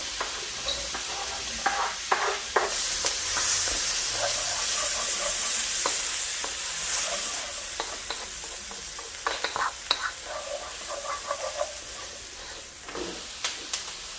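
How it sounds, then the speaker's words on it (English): Onion frying in butter in a pan, a steady sizzle and hiss with intermittent stirring scrapes and clicks, close and clear with no talking. "We will take a piece of butter that we already have it. And we'll add the onion."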